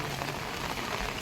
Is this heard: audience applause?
no